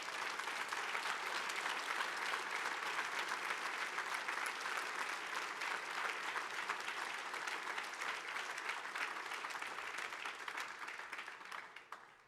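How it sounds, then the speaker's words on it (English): Sustained audience applause fills a hall at a law school event, a dense steady wash of many hands clapping at full strength for about twelve seconds before tapering slightly at the end. "I hope again you could hear the resounding applause to your answer."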